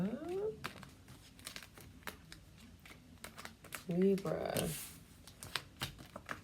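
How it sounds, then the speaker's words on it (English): Tarot cards are gathered and shuffled by hand, giving soft papery riffles, taps and crinkles, with a voice speaking briefly partway through. "Let's shuffle the cards up."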